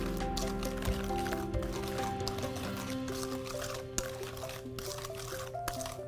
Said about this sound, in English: Whisk all that together.